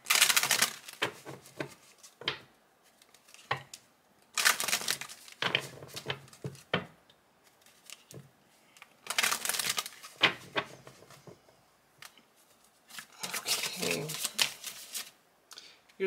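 Tarot cards are shuffled in several separate bursts of quick riffling and flapping, close and fairly quiet, with soft handling noises between bursts.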